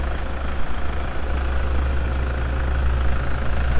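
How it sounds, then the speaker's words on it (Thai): A Toyota pickup prerunner's engine idles steadily, a low, even rumble held close and constant with no revving or other sounds. "ก็มาดูเครื่องเครื่องนิ่งมาก เครื่องนิ่งมาก"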